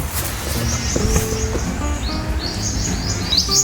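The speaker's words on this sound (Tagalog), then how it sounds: "Pakinggan niyo po yung ibon dyan." Birds chirp and call in short, repeated bursts over a rumbling outdoor background, with a few sharp tweets near the end.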